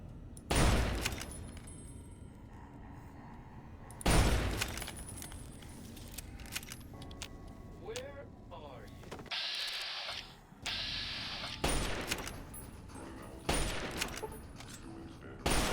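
Automated turrets in Fallout: New Vegas fire repeated bursts of gunfire, sharp cracks and rattling volleys recurring through the fight alongside mechanical clanks and game effects.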